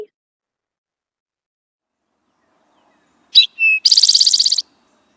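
A songbird sings once after a long silence: two short sharp notes followed by a fast buzzy trill, close and clear, with nothing else heard around it.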